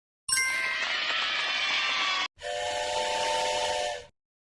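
A steam train whistle in a children's video game blows twice, each a long, loud, shrill hiss-edged tone lasting about two seconds, separated by a short gap.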